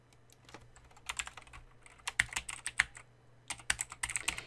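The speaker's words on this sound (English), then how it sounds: "If I press Alt 1 on the keyboard or click 1 up here" Close, irregular bursts of key presses on a computer keyboard, with quick clustered clicks and short pauses between, as shortcuts and text are typed into a legal pleading document. No one speaks.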